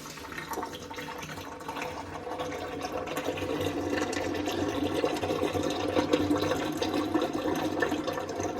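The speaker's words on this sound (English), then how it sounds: "That's some dirty oil. Well, that's draining." Dirty engine oil drains from a Ford Escape into a catch pan as a steady gushing pour that grows slightly louder over time, heard close and continuous with no voices.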